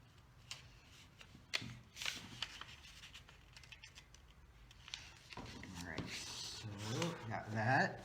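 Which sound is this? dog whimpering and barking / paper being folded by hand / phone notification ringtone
paper being folded by hand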